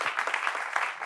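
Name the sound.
applause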